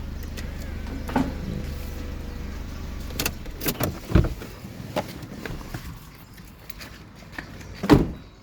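Isuzu D-Max 1.9 pickup (2019 All-New Stealth) with an electric mirror-folding kit, doors locking and mirrors power-folding: a few short clunks and motor whirs, moderately close, separated by quiet gaps, ending with a sharper lock clunk.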